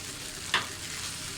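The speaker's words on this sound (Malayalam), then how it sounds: "ഹൈ ഫ്ലെയിമിൽ വെച്ചിട്ട് നന്നായിട്ട് അങ്ങോട്ട് വഴറ്റിയെടുത്താൽ അതങ്ങോട്ട് പോയിക്കോളും." Homemade wheat-flour noodles stir-fry on high flame in a pan, a brief steady sizzle broken by one quick scrape of the spatula.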